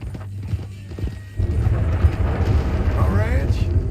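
Horse hooves in the video game Red Dead Redemption 2, a steady, close clip-clop rhythm that grows louder partway through and continues under characters' talk.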